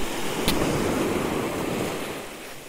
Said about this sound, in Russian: Ждем волну.